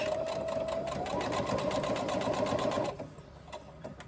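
A sewing machine runs a steady, fast stitch basting down the edge of a fabric crossbody bag, a continuous whirring hum for about three seconds before stopping, followed by a few faint mechanical clicks.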